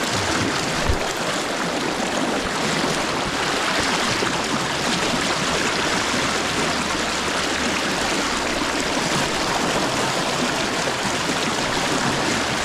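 A tannic, brown-water river in Michigan's Upper Peninsula rushes steadily around a wading angler, a loud, continuous broadband wash of flowing water with a faint low thump early on.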